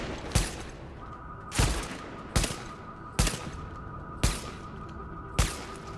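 Sniper rifle fire in The Division shooter game: six sharp, loud single shots spaced about a second apart, each cracking out alone over a low, steady background hum.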